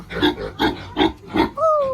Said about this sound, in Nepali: कति बेसी सुँगुर यत्रो फार्म बनाएर राखिरहेछ